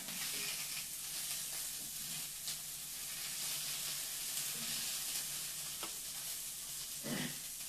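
Meat frying in a cast iron pan, sizzling steadily with crackling fat and a few brief sharper pops, close and even throughout.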